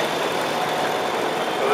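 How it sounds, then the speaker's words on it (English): A vintage John Deere BO-based two-cylinder crawler tractor converted to tracks by Lindemann runs at a steady idle during a vintage tractor parade at a UK steam and country rally, a continuous near engine rumble with broad noise. "And we got a John Deere Lindemann crawler,"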